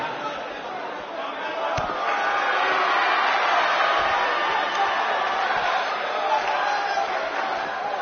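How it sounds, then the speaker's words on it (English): Sold-out arena crowd in the WWE 2K19 wrestling video game, a loud continuous roar and chatter sustained throughout with occasional thuds. "We have a sold-out, record-setting crowd here for BCW tonight."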